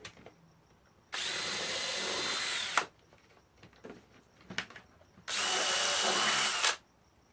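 A handheld power drill spins up in two separate bursts of about one and a half seconds each, steady whine while running, with quiet handling noises in between; close and alone.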